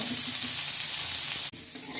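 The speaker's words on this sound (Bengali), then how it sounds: "আলু ভাজা তেলেই আমি ইঁচড়গুলো ভেজে নেব" Young jackfruit pieces with a pinch of turmeric frying in oil left over from frying potatoes, a continuous close sizzle with a brief dropout partway through.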